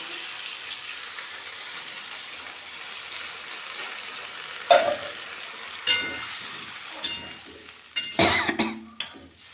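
Water is poured into a pan of fried spice paste for a Bengali fish curry with beans, potato, eggplant and lentil dumplings; a steady sizzle gives way to several sharp splashing, hissing bursts near the end.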